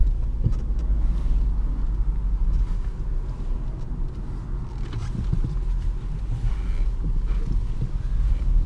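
A 2010 Jaguar XF 5.0 V8 S on a test drive gives a steady low rumble of engine and road noise from inside the cabin, with some wind buffeting and no talk.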